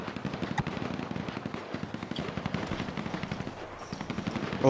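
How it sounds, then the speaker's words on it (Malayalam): Rapid bursts of video game gunfire crackle continuously from every side during a Free Fire style turf match, dense machine-gun style volleys repeating in quick rhythm at moderate loudness with no talk over them. "വെടിവെപ്പാണ് നടന്നുകൊണ്ടിരിക്കുന്നത്"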